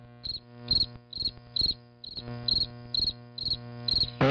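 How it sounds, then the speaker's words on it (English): Crickets chirp on a West Texas night in crisp, evenly spaced bursts about twice a second, loud and close, over a steady low hum. "it's just all crickets out here in West Texas"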